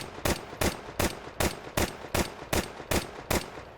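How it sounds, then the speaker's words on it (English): Ten Glock pistol shots fire in Counter-Strike 2, sharp, evenly spaced cracks in a quick steady rhythm, loud and close with no talking. "That is 10 shots with the Glock."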